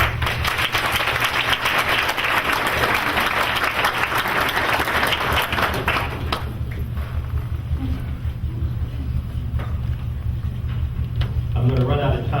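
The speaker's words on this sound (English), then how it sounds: "please give yourselves a round of applause" Applause from an institutional audience during a chancellor's visit, a dense, loud crowd clapping lasting about six seconds before dying away beneath a low hum and a speaking voice.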